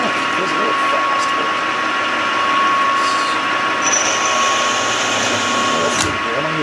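A 1.5 inch annular cutter drilling in a portable press, a steady loud motor whine and grinding hum holding evenly throughout, with a brief clunk near the end.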